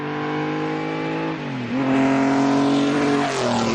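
A Maserati MC12 sports car's 2.5-litre straight-six engine revs hard and climbs through the gears, a loud, close, rising whine that dips briefly at each shift before pulling higher again.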